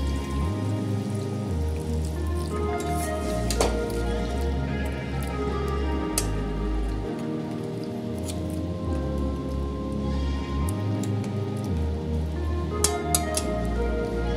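Water is poured into a pan of mustard fish cooking, giving a continuous close sizzle and bubbling with scattered wet pops and drips throughout.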